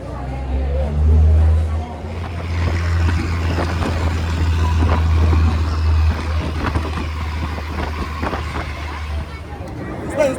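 A tour bus waits at Ramoji Film City in Hyderabad, its engine giving off a steady low rumble throughout while people chatter nearby.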